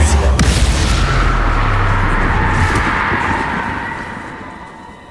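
Bombarda spell explosion in a Harry Potter video game: a loud, heavy blast whose booming rumble rolls on and slowly dies away over several seconds.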